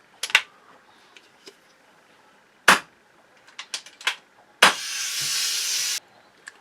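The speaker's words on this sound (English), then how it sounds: "dry fire the rifle in a safe place" An FX air rifle is dry fired with the power wheel at minimum to empty its regulator: a few sharp, close snaps and clicks, then one last shot followed by a loud, steady hiss of air venting for over a second.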